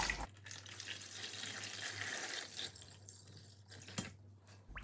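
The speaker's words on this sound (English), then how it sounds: "I will add some of the water with the alum that we used to soak everything in" Alum water used for soaking fabric pours into an eco-printing dye bath in a steady, close rushing stream that stops abruptly near the end, with a brief clink afterward.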